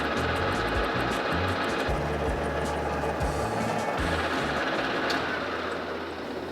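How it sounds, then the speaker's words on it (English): Steady mechanical whir of a metal workpiece being turned on a lathe, a continuous close hum with slight shifts in pitch and load throughout, no talking. "I'm gonna attempt to machine it round."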